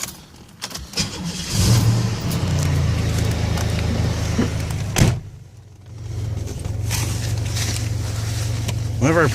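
A 1992 Oldsmobile Toronado Trofeo heard from inside: a door thump, then the engine starting and settling into a steady idle hum, a second door-like thud midway, with the engine continuing afterward.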